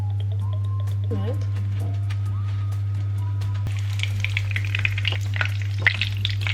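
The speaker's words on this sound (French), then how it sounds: "j'espère que ça va frire correctement. Je vais venir mettre l'huile dans ma poêle" Oil sizzles in a frying pan as breaded Babybel cheese starts to fry, quiet at first with a person talking and a few clinks, then a louder crackling fry with sharp pops for the last few seconds.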